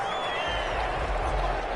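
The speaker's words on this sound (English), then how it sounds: "The crowd's not doing that O-line any favors." A packed stadium crowd in an American football video game roars steadily during a drive near the goal line, a dense, continuous wash of noise with no breaks over the short stretch.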